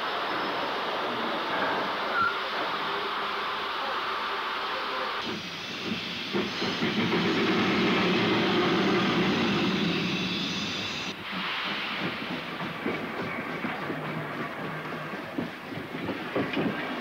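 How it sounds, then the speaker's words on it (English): A Stanier two-cylinder 2-6-4 tank steam locomotive, 42647, works a Birkenhead Woodside to Chester passenger service on the Wirral in the mid-1960s. Loud steam hiss and rumbling chuffs build and shift as it passes close by. "Stanier two-cylinder 264 tank 42647 calls for little custom on the 1025 Birkenhead Woodside to Chester."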